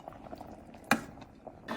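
Yogurt mixed with water is poured into a pot of cooking mutton for yakhni pulao, giving a soft liquid bubbling and simmering hiss. One sharp clack of a utensil sounds midway.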